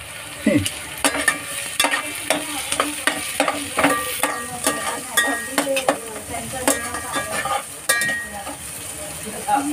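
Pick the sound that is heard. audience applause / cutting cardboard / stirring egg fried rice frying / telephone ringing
stirring egg fried rice frying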